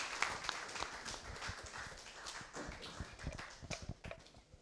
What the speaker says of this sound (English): Let's have another round of applause, please